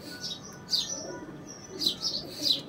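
Golden kalanch pigeons with bordered feathers, a pair of dubwala birds, giving short bright chirping calls in a few quick bursts, close and fairly faint, with no speech.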